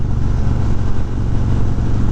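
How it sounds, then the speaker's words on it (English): A 2018 Harley-Davidson Road King Special touring motorcycle exhaust rumbles in a loud, steady, deep drone at a constant pace, close by, without talking. "I really like the sound of this exhaust."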